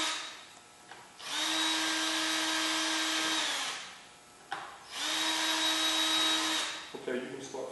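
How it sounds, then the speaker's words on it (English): A power drill whines through pilot holes in the air box of a Kawasaki Concours ZG1000 motorcycle, two loud, sustained bursts each spinning up and winding down, close by, with no talk. "we've got our pilot holes drilled all through the box, top and bottom"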